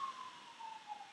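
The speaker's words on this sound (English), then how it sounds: "sorry if you can probably hear the ambulance there." An ambulance siren wails outside, a steady drawn-out tone slowly dropping in pitch as it moves, faint and distant with no talk over it.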